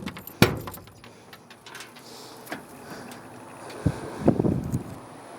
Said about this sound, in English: These are some original looking Pontiac keys.